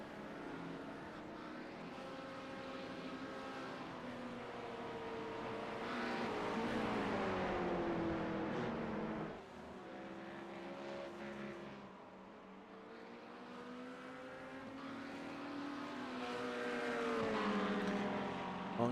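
Race cars in a sim racing video game at Silverstone during an endurance race, with engines droning and rising and falling in pitch as they rev and shift, steady and fairly faint throughout.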